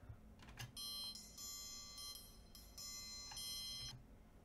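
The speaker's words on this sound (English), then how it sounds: "the normal triangle hit and the muted or held triangle" Bright metallic triangle strikes, some left ringing and others cut short, spaced in a steady pattern and fairly quiet.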